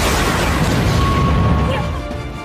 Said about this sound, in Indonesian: tiba-tiba muncul kilatan kuning disertai dengan ledakan